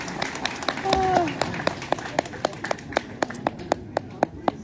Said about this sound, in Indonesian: Tepuk tangan, malih.